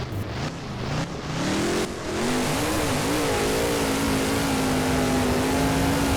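BKT Tires ride truck in BeamNG spinning donuts, its engine revving hard and holding a steady high drone after a few early stutters, loud and close with a slight wavering pitch as it circles.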